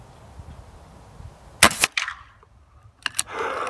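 An air rifle, .177 or .22 calibre, fires at a target club, a single sharp crack followed by a quieter second report and a fainter thud, set against quiet outdoor background.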